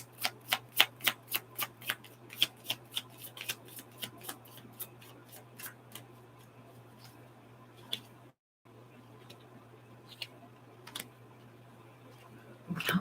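Tarot cards shuffled in rapid crisp riffles, a quick run of sharp flicking bursts at first that thin into scattered soft slides and taps over a steady low hum, with a brief gap of silence.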